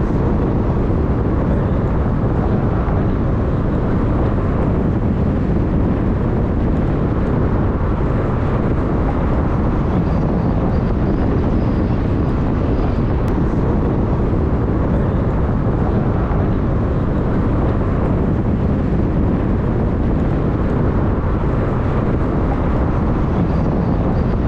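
Uber car ride on the Nairobi Expressway at night, heard as a constant broad road and wind roar from inside the moving vehicle, loud and unbroken throughout with no talk.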